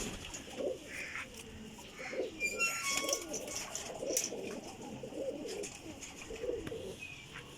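A golden teddy pigeon, a female of a flying breed, coos in soft repeated low calls, with faint chirps from other birds in the background and no voices.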